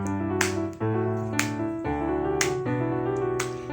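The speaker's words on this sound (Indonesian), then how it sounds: "Kita tepuk tangan yuk." A church congregation claps hands in time during an online Sunday worship service, with crisp claps landing about once a second over loud, sustained sung music.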